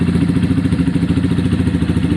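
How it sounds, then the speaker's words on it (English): A Honda CBF 125 motorcycle engine runs steadily at idle close by, a loud, even, rhythmic thrum with a slight mechanical clatter and no talking. "What we have got is a bike that's running and riding and has spark"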